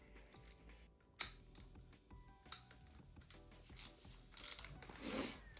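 A ratchet clicks in short bursts while tightening the front fork spring cap of a 1980 Honda CB750F, close and fairly quiet, with metallic clunks between strokes; no talk.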